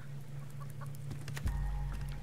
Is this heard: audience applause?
no